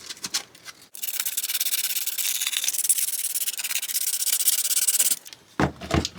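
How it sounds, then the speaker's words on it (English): Hand sanding of two areas inside a Honda CRX so fiberglass will bond, heard as a steady, close, dense scratchy rubbing that runs about four seconds, with short scuffs before and after. "So I'm going to sand these two areas."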